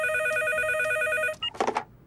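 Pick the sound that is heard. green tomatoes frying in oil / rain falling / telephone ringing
telephone ringing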